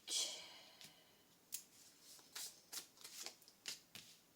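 Tarot cards being shuffled for a reading: a quick riffle at the start, then a run of soft, irregular card slaps and flutters, close and fairly quiet with no talking.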